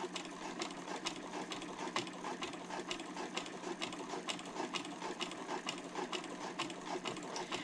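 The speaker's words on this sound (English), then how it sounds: "it really helps move the material through the machine evenly" A sewing machine fitted with a walking foot stitches thick vinyl layers for a handbag exterior, its needle thumping in a fast, even, mechanical rhythm heard up close and alone.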